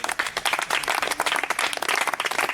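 A congregation at a baptism service claps in rapid, dense applause that carries on through the whole stretch, with a faint murmur of voices underneath.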